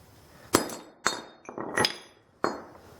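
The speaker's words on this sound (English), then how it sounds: "we try and find the seam between the hub and the race with the chisel. Firm grip on it, and we give it a good solid whack." Hammer striking a chisel wedged between the hub and bearing race on a 2002 Honda Civic front wheel assembly; four sharp metallic whacks at uneven intervals, each ringing briefly, with a faint rattle between them.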